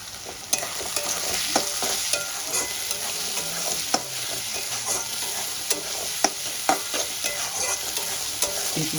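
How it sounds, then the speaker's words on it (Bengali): Chopped onion fries in oil in a pan, browning while being stirred, giving a dense continuous sizzle with regular scraping stir strokes and occasional sharp clicks, close and loud. "পেঁয়াজটা আমার লাল লাল হয়ে গেছে। আমি এই সময় একটু সামান্য পরিমাণ নুন দিয়ে দেবো।"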